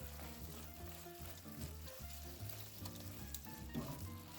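Sliced Italian sausage and peppers simmer and sizzle in a single pan. A steady, close crackle runs throughout, with a few soft stirring sounds and faint tonal notes, and no one speaks.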